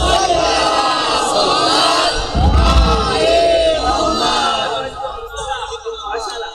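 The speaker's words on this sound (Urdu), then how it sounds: "بلند تر صلوات محمد و آل محمد پر۔" A large crowd loudly chants salawat in unison, a dense roar of many voices that swells and then fades.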